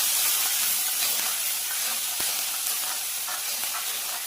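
Crushed onion, chili and curry leaves frying in hot oil, a steady loud hiss and sizzle filling the whole stretch without pause.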